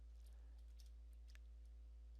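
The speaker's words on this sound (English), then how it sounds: "type in cd space / Windows / system 32 / config" Computer keyboard typing a command, a few light scattered key clicks over a steady low electrical hum, quiet and close, with no talk.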